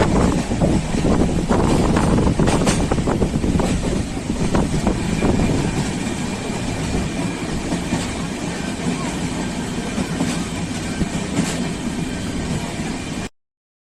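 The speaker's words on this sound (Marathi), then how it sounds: "ट्रेन पोचलेली आहे लोकमान्य तिलक टर्मिनलला" A Pune to Mumbai train rumbles steadily along the rails with rhythmic clacking and rattling carriages, loud and close, fading out abruptly at the end.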